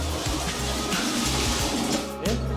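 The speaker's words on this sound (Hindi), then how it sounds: "खड़ा होकर डालिए बदन में पानी" Water poured over a man's body while he stands bathing, a steady close splashing and gushing that runs almost without break, with a brief lull near the end before the flow resumes.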